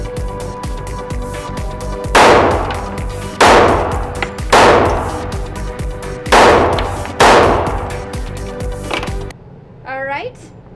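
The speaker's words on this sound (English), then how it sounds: "now we're going to shoot a 4-inch barrel 1911. This is the Kimber SIS PRO." Five sharp, loud shots from a Kimber SIS PRO 1911 pistol with a 4-inch barrel, fired at an uneven pace, each followed by a short ringing decay, then a brief quieter stretch.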